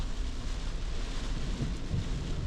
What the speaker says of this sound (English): The thunder is coming, lightning is coming.